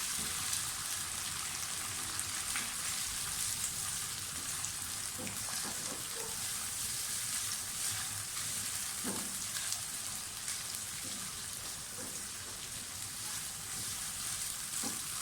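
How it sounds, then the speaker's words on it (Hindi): Continuous crackling sizzle of onion frying with garlic ginger paste in a hot pan, steady and close, with occasional light clinks and no talking. "प्याज को अच्छी तरह से फ्राई कर लें। प्याज लाइट ब्राउन हो जाए तो साथ ही इसमें आप लहसुन अदरक का पेस्ट डाल दें"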